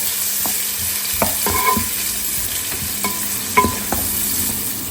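Onions frying in a pan for noodles, a steady close sizzle with several sharp spatula scrapes and clinks against the pan, no talk.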